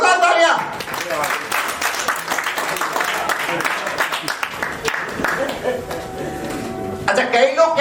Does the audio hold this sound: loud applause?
yes